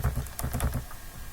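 Quick keystrokes tap out a command on a computer keyboard, a short run of soft, close clicks at an uneven typing rhythm with no talking.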